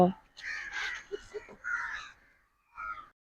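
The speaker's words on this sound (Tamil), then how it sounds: "நாங்கள் வந்தோடனே காக்கா எல்லாம் சுத்து போட்டுருச்சு எங்களை" Crows caw repeatedly around an old abandoned place, several close, harsh calls in short bursts, with a person speaking briefly among them.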